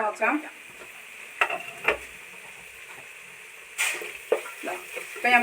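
Vegetables, green peas and masala sizzle in oil in a pan for semiya biryani while being stirred, a steady frying hiss broken by intermittent scraping strokes of a spoon nearby.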